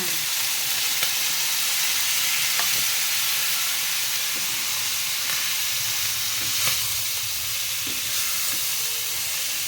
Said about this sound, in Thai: ก็ผัดทุกอย่างให้เข้ากันค่ะแล้วก็ใส่หน่อไม้ค่ะ เติมน้ำนิดหน่อยค่ะ